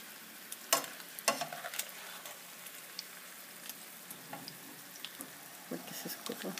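Fish for tacos fries in hot oil, a continuous crackling sizzle broken by sharper spits and pops. It sits close and is moderately loud, with occasional light clatter and no talk.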